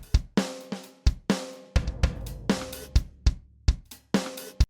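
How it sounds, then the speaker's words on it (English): A virtual drum plugin plays a steady rock beat of punchy kicks, snares and cymbal crashes in a regular rhythm, loud and close with no voices. "We've got some drums as well."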